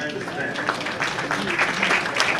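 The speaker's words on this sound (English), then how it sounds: "A big round of applause." Audience at a bowling World Cup final at Sam's Town applauds, a steady wash of clapping that carries on under a voice talking over it.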